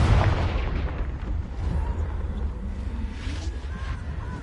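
A spell explosion in Hogwarts Legacy, a loud booming burst at the start that rumbles and decays into sustained low game noise throughout.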